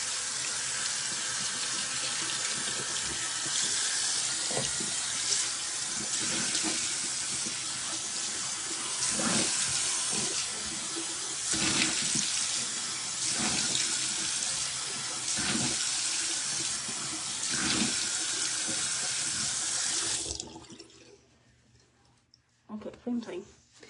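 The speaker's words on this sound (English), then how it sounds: "I'm going to turn the water on" Water runs steadily from a bathroom tap into a sink for about twenty seconds, a loud, close hiss with small splashes and intermittent talking over it, then shuts off abruptly leaving near silence.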